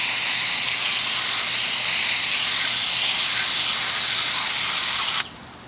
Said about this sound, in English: Give that stuff a nice rinse.